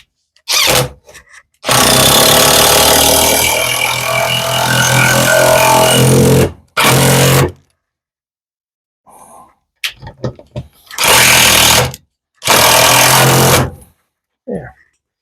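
A power drill driving screws, heard as one long loud whirring run followed by several shorter close bursts, separated by quiet pauses.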